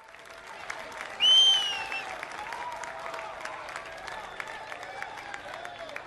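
A large crowd at a public event in Bhubaneswar claps in welcome for the Prime Minister, with a loud burst that then settles into sustained, steady applause. High whistles sound on top of the clapping.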